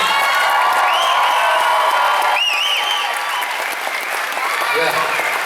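A crowd at a rock camp event applauds and cheers loudly and continuously, with whoops and shouts mixed into the steady clapping.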